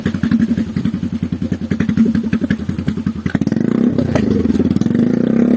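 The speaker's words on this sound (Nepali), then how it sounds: "बाइक" A motorcycle on a crowded village road, its engine thumping in a steady rapid pulse close by, then the pitch and loudness rise as it revs and pulls away.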